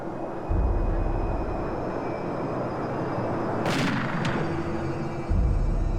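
A sharp gunshot cracks over a low, rumbling background, quickly followed by a second, fainter snap.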